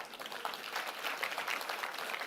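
An audience at an XR technology expo applauds the exhibitors, a dense even clatter of many hands clapping from a distance, steady and moderately quiet throughout.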